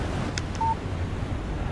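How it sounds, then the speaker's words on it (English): A short electronic tone sounds once on a phone in the video game Alan Wake, signalling an incoming text message over a low windy ambient bed, preceded by two faint clicks. "Text message from Barry."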